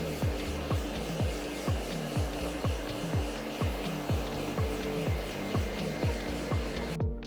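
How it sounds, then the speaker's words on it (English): A blow dryer on cold air at high speed blows with a continuous rushing hiss. A steady series of rhythmic brushing or scrunching strokes through hair repeats under it at about two per second. "I use the blow dryer on cold air but high speed"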